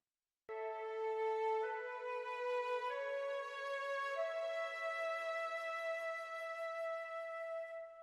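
A sustained violin melody doubled by a flute, the tones entering together after a brief silence and stepping through several long held notes, smooth and rounded with no talking.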